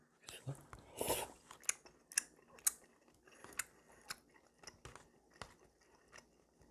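Someone eats Buldak carbonara tteokbokki, chewing soft, chewy rice cakes close to the mic, with a series of wet bites and smacks spaced irregularly and no talking.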